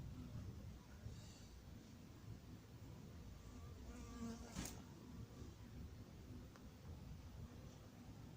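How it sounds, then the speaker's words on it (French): A hornet flies in near beehives at an apiary, and its faint buzzing drone sits over quiet outdoor background noise, with a brief sharper sound midway through. "Tiens, un frelon qui arrive là."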